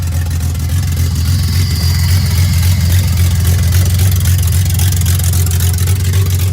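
A modified BMW E34 535i straight-six idles steadily just after a jump start, a loud, close, continuous low rumble with a faint whine above and no talking.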